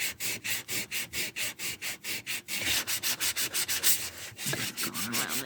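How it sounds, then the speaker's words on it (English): Sandpaper rubbed by hand around the edge of a wooden craft piece, a steady rhythmic back-and-forth scratching of about two strokes per second, close and clear, with no talk. "I'm just taking a little bit of sandpaper."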